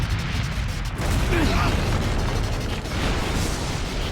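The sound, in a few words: explosion in anime episode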